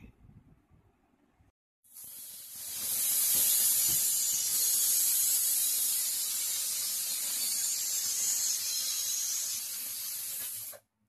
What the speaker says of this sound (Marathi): 5-6 शिट्या काढून घेते।